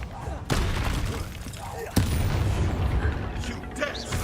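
Bombarda and Confringo spells exploding in the video game Hogwarts Legacy, heard as two sudden booms amid a dense, loud, continuous roar of battle noise and crackling with a voice shouting over it.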